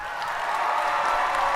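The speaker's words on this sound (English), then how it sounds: "A round of applause for Team" An audience claps steadily for a robotics team at a district competition event, a dense, even wash of applause that swells slightly and holds throughout, with no talking over it.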